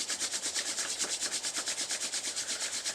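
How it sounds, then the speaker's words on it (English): Palms rubbed briskly together during a yoga session, a fast, even series of soft swishing strokes, close and alone without talk. "Rub the palms one more time."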